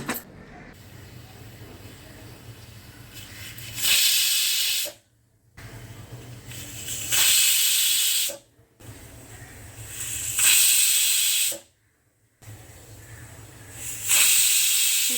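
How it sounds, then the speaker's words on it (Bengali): A pressure cooker of moong dal for khatta moong hisses on a gas stove over full flame, loud whistling bursts of about two seconds each recurring four times at a steady pace over a quieter low rumble. "ফুল ফ্লেমে চারটে সিটি আমার উঠে গেল"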